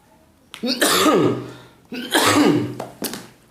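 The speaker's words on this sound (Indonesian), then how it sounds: "duh batuk." A person coughs hard several times in a row, close and loud, with short pauses between the harsh bursts.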